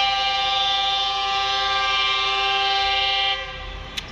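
A loud, sustained horn from the Karakorum Express train in Pakistan blares steadily for over three seconds, then cuts off, leaving rumbling rail noise and a brief click.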